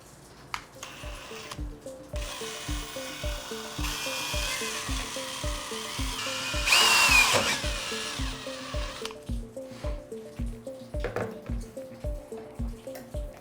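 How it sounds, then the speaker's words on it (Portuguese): Electric drill boring a hole through the middle of a cap clamped in a vise, a sustained whirring motor with a rhythmic pulsing beat, rising into a louder grinding burst midway before easing back, close and steady. "Então a gente agora vai usar a furadeira com essa broca"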